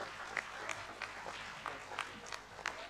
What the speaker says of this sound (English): And next cheers of clap for our quiz masters.